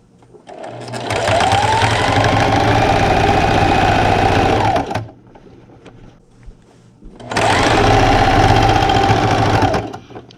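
A sewing machine stitches a quilt ruler holder in two loud, steady runs of rapid needle chatter, the first about four seconds long and the second shorter, separated by a quiet pause.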